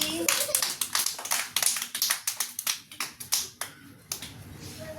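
Children clapping together in a school play session, rapid, uneven claps in a close burst that thin out toward the end, with talk under them.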